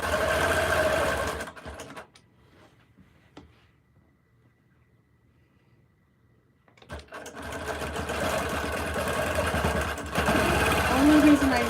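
A longarm quilting sewing machine runs with a loud, rapid mechanical hum and stitching clatter, stops for several seconds of near quiet with faint talk, then starts up again loudly.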